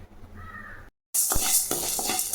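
Chana dal dry roasting in a pan, first a quiet stretch with a crow cawing nearby, then after a short gap a brighter rustling, scraping sizzle as the lentils are stirred.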